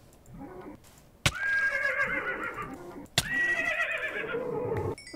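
A skeleton horse in the Minecraft video game neighs twice, each whinny loud, shrill and drawn out for about two seconds, with a sharp click at the start of each call.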